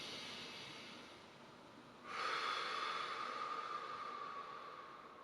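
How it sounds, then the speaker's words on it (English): A deep breath taken during a hip stretch, a soft airy inhale that swells suddenly midway and then slowly fades, close and quiet with no talk. "let's go one more big breath there"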